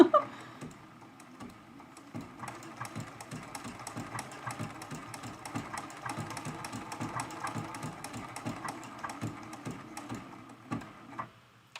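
A sewing machine running a zigzag stitch on a quilted mug rug, a fast steady mechanical patter of needle strokes held for several seconds at a close, moderate level, with no talking.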